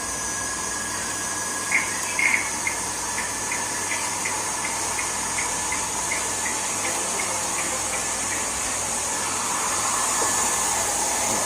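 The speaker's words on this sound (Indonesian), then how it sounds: "Vakumnya udah nyala dari awal ya." A vacuum runs continuously beside a printer, giving a steady close hiss and whir that holds the whole time, with faint rhythmic ticks from the printing in the first half.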